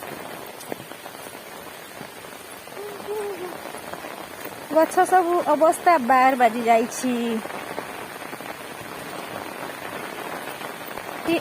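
Steady heavy rain during a cyclone hisses on surfaces throughout, while someone speaks briefly in Odia over it midway.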